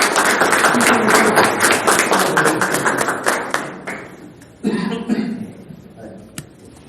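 Audience at a book presentation claps for a speaker, a lively burst of applause that fades after a few seconds before a voice begins talking.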